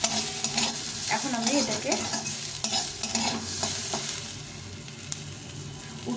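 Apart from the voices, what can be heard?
fried pointed gourd (potol) sizzling in a pan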